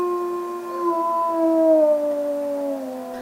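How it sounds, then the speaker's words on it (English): A wolf named Grayson lets out a single long, steady howl, loud and clear with a slowly falling pitch, alone without other voices. "Grayson lets out a lone howl"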